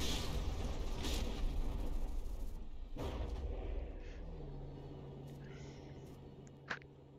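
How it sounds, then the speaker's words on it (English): Ships in the naval combat game From The Depths fire an artillery volley, a muffled rumbling barrage with a sharp boom near the middle, followed by a lower steady hum and a brief crack near the end. "Oh, baby shark launches a volley from behind."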